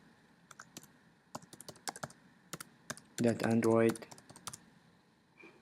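Computer keyboard keys tapped in quick, uneven bursts while naming a remote folder, with a brief spoken word in the middle; clicks are close and crisp at moderate volume.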